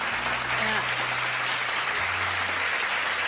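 Audience applause at a dating talk event with two speakers, steady dense clapping from a crowd, with voices and some tonal sound underneath throughout.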